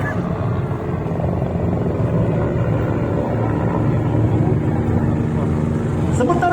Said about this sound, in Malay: dua buah helikopter pendek dari anggota pasukan khas ATM akan melaksanakan penyusupan